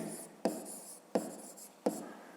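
A pen writes numbers by hand on paper during a fifth-grade maths exercise, three sharp taps each followed by a short scratchy stroke, close and quiet with no voices.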